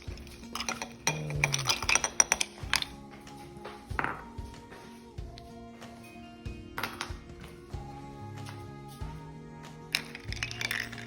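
Ice cubes clinking into a glass of Vietnamese coffee, a string of bright close clinks and taps with ringing tones, some clustered, others spaced out, over quiet background music.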